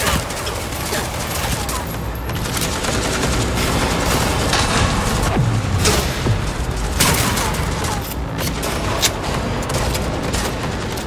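Dense gunfire from the video game Cyberpunk 2077, continuous volleys and bursts with ricocheting shots and booms, loud and layered over game music and effects.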